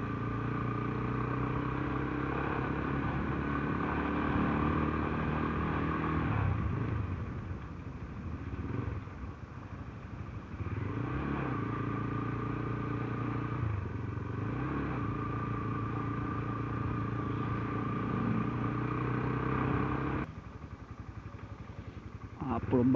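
A Mojo 200 motorcycle engine drones steadily while riding, with the rumble rising and easing through gear changes, close and continuous under wind and road noise.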